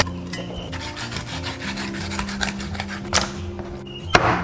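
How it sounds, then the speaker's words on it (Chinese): A knife fillets a fish along the backbone, starting with a cut at the tail and running up beside the large bone. Steady close rasping and rubbing strokes run throughout, with a sharper chop near the end, and no speech. "首先在尾部这边切一刀，然后挨着大骨直接剔上去"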